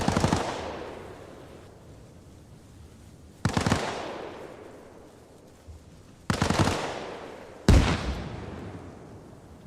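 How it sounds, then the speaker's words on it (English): Four heavy gunshots or blasts ring out in a video game, spaced irregularly. Each one is a sharp, loud crack followed by a long, echoing decay, and no one speaks. "Not sure who exactly is shooting at whom."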